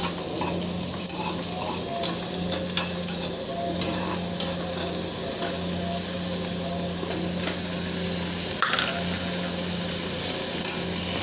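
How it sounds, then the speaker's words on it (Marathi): Sweet potato pieces, peeled and cut, stir-fry in oil in a pan, with a steady sizzle, a low hum underneath and light clinks of stirring throughout. "चला तर आपण याला थोडंसं तेलात फ्राय करून घेऊया, परतून घेऊया."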